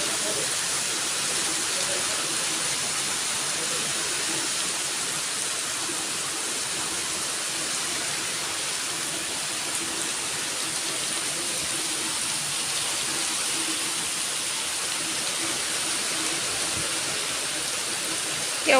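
Heavy monsoon rain pours steadily in a home setting, a dense unbroken hiss of falling water with low spatters, loud and constant throughout with no clear talk.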